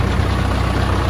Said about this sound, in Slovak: To je traktor bager Komatsu.